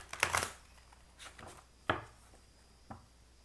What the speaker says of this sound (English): I'm going to go ahead and shuffle a couple times.